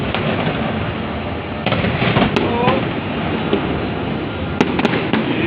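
Fireworks explode in a continuous crackling barrage, with sharper individual bangs popping out near and far over the dense background rattle.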